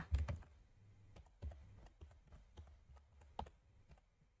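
Computer keyboard typing an email subject line, a run of quick, irregular key clicks, close and fairly soft, with a few louder taps and no voices.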